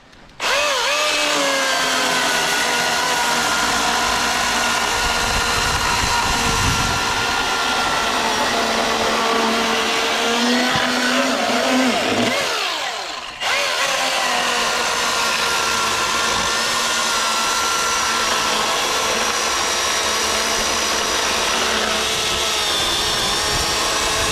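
A 16-inch Milwaukee or DeWalt chainsaw cuts through a piece of firewood, its motor whining loudly and steadily for the full length of the cut, dipping briefly midway before resuming at full power.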